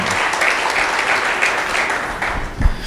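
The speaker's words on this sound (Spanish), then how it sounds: "Dele ese aplauso al Señor" A church congregation claps together in steady, dense applause that fills the space at close range, with a brief louder burst near the end and no speech over it.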